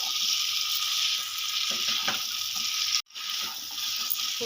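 Fried cauliflower stirred into a pan of mixed winter vegetables, giving a continuous bright sizzle with soft spatula scrapes, broken by a brief near-silent gap before the frying noise resumes.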